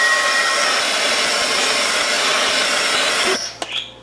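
A hair dryer blows loudly and steadily over a freshly painted watercolor journal page, a close continuous whooshing roar that cuts off abruptly near the end, followed by a few soft handling sounds.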